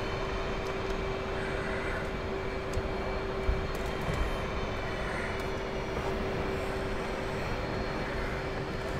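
A carrier aircraft engine in a VR flight game gives a steady, loud drone with a constant tone, holding an even roar throughout without pause.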